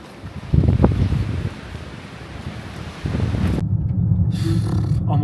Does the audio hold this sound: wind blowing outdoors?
yes